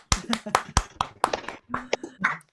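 An online audience unmutes and claps: a handful of sharp, separate hand claps arrive irregularly over a couple of seconds, fairly close and uneven.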